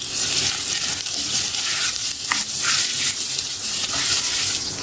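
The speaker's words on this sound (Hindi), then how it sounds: "इसे गोल्डन ब्राउन होने तक फ्राई करेंगे।" Sliced onion sizzles loudly in hot oil in a pan, a steady close crackle with occasional stirring scrapes, cooked toward golden brown for achari chicken macaroni.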